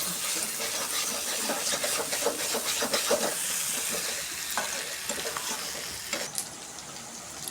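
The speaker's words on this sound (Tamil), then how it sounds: "கோவக்காய் பொரியல் வறுவல் ஆகிற வாசம் நல்லா கம கமன்னு வருது." Ivy gourd sizzles steadily in hot oil while a spatula stirs and scrapes through it, a dense close hiss with frequent clattering strokes running throughout.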